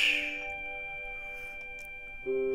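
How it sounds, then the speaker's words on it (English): A mobile phone notification rings out as bright, sustained electronic tones that fade, then a second tone sounds near the end over a quiet background. "I'm sorry if you just heard my phone go off."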